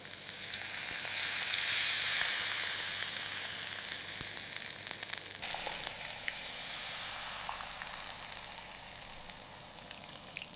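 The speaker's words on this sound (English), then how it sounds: "Pure Desi Ghee is added." Pure desi ghee sizzles as it meets a large batch of carrot halwa cooking in a factory, a steady broad hiss that swells and then settles into a continuous frying crackle.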